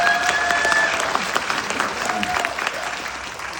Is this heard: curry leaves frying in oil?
no